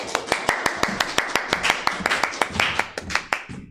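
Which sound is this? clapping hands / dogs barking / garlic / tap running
clapping hands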